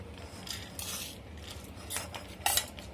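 Soaked toor dal goes into a pressure cooker with light metal clinks and scrapes of a spoon against the pot, several small knocks ending in a sharper clink, close and quiet with no talk.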